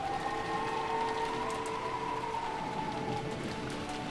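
Steady rain and wind ambience from the Umineko visual novel, a continuous even hiss with a faint sustained tone running underneath, with no voices.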